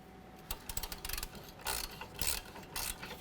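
Wrench turning a bolt on the front driver-side CV axle of a 2005–2016 Toyota RAV4, heard as a few close, quick bursts of ratcheting clicks with short gaps between them, with no talk.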